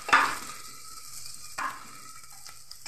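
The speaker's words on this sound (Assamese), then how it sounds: "আপোনাৰ আদা পেষ্টখিনি দি দিলোঁ, ধুনীয়া জিৰাৰ চেংটো আহিলেই অলৰেডি" Ginger paste and cumin seeds hitting hot oil for a mushroom dish: a sharp burst of sizzling at the start, then a steady hiss with a second stir-driven surge midway, close up.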